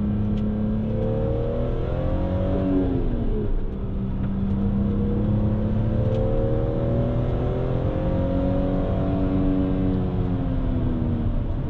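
A BMW Z3 M Coupe with the S54 straight-six engine, heard from inside while driving, giving a loud steady engine drone that rises and falls through gear changes and revs.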